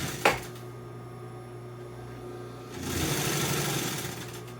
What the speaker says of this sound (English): We're sewing right on that edge.